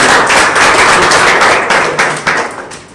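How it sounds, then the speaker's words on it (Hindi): Loud, dense applause from a group of participants in a health session, continuous rapid clapping that fills the space before gradually thinning toward the end. "इनके लिए भी ढेर सारी तालियां"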